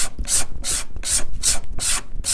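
A card scraper drawn over wood in a guitar maker's workshop gives close, rhythmic rasping strokes, about six evenly spaced scrapes with short pauses between them, and no talk.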